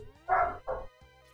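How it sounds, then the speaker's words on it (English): A dog lets out two short muffled barks in quick succession from some distance away, followed by a quiet lull. "I think I heard one of my dogs singing"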